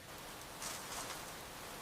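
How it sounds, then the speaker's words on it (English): Steady rain falls as a dense, even hiss throughout, swelling slightly midway, with no voices. "Well, Leo, you cannot stay here in the rain"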